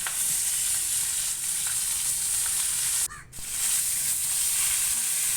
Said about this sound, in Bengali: সমস্ত মাছ ভেজে নেব আর মাছ ভাজা তেলের উপর দিয়ে দেবো